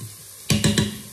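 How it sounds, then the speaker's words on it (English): Onions sizzling in a pot, with a quick stir producing three sharp scraping bursts after a brief quiet hiss, close and clear. "our onions is sizzling away. Just give it a quick stir."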